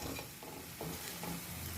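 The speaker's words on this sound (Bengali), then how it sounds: "আবার মশলাটাকে আবার একটুখানি কষিয়ে নেব।" Spice masala for Bengali-style kabuli chana being stirred and fried in a pan, with a steady low sizzle and soft scraping strokes repeating every half second or so, close and fairly quiet with no talking.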